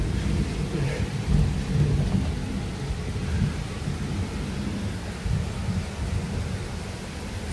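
A heavy thunderstorm rumbles over a city in Lyon, with deep continuous thunder rolling beneath a dense, steady wash of falling rain and no voices.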